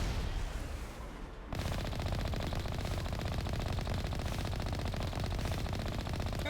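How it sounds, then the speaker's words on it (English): Sustained automatic gunfire shooting turrets in the video game Mass Effect, a dense, loud, continuous rattle of rapid shots after a brief lull at the start. "That way I can just shoot the turrets and destroy them."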